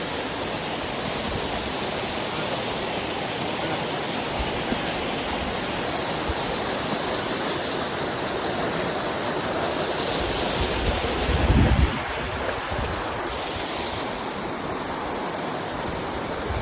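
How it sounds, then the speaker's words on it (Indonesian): A mountain river flows steadily along a hiking trail on Gunung Lawu, near the Cemoro Kandang route, its dense rushing water filling the whole stretch at an even level, with a brief low thump near the end. "kita sampai di aliran sungai"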